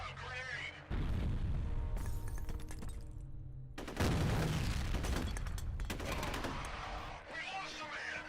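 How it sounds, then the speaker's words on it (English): A grenade blows up in the shooter F.E.A.R., a loud, sustained roar of blast and debris, mixed with gunfire and game chaos, while a voice is heard briefly. "Look out, grenade!"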